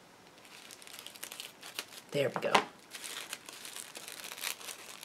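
Tissue paper rips and crinkles as a package is unwrapped in a short, close burst of tearing while a person talks nearby.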